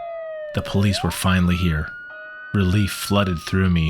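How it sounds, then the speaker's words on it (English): Police sirens wail steadily in the distance, their rising and falling tones running beneath a narrator's voice throughout. "we heard the distant wail of sirens."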